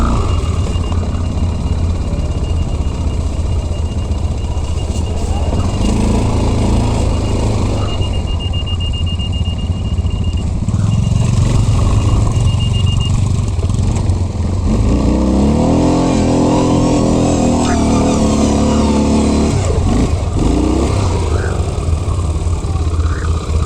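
A Linhai 550 ATV engine roars continuously up close in sand, straining and revving harder midway as it pushes forward, loud throughout.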